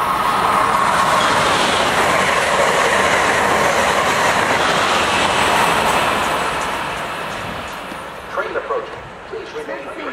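A train arriving at a station rumbles steadily past with clattering wheels and broadband roar, fading toward the end as a few brief clanks and knocks stand out.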